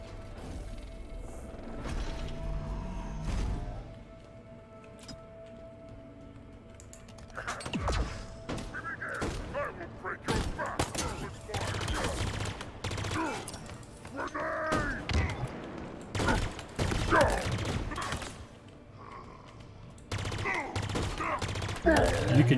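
Gunfire in the video game Halo Infinite: dense bursts of rapid automatic shots and heavy impacts pound on and off, with crashing hits and low rumble between volleys.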